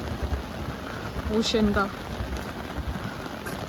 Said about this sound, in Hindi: और बारिश बहुत तेज़ है